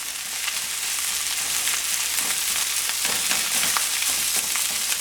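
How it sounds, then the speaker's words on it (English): Mushroom Spam fried rice sizzles steadily in a hot pan as it heats through, a continuous close crackle with faint stirring scrapes and no talk. "Start heating that rice through"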